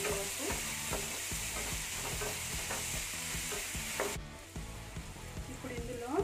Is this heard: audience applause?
no